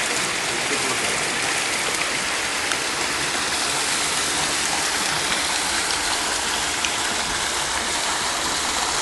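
Backyard rock waterfall spilling into a home's swimming pool beside a Jacuzzi, a steady, dense splashing rush that holds evenly from start to finish with no voices over it.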